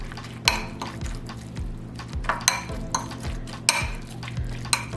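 Mayonnaise being mixed into a macaroni salad dressing in a bowl, with repeated clinks and scrapes of a utensil against the bowl at a steady rhythm over a low background hum.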